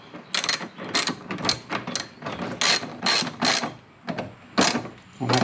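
A ratchet tightening the air filter housing bolts on a Genesis engine gives rapid bursts of sharp metallic clicking, repeated in short strokes with brief pauses between them, close and loud.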